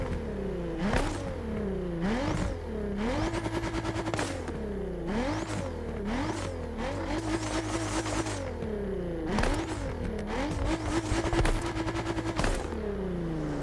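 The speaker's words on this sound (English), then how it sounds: "when it does come to the sound of the Nissan GT-R 50, it's most likely going to sound fairly familiar" A Nissan GT-R50 by Italdesign revs hard through repeated gear changes, the engine note climbing and dropping in rising sweeps, loud and steady with sharp crackles and pops between shifts.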